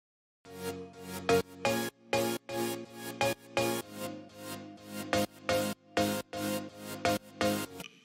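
Layered synth chords pulse in a steady, choppy rhythm, bright piano and marimba tones stacked over a buzzy saw synth, each hit cutting off sharply.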